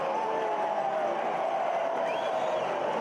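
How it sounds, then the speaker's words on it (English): A home crowd roaring after a Louisville City goal at a soccer match against Miami FC, a dense, sustained wall of cheering with a high whistle rising briefly near the end. "And they get the home crowd going."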